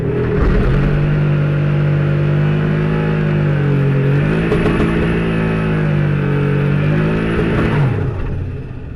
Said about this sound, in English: I'm going to do a burnout and see if we can get this off the start line a bit faster.